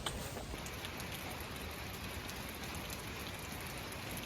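Rain falling steadily during a mountain trek, a dense continuous hiss of drops on surfaces, soft and even throughout, with a faint high whine in the background.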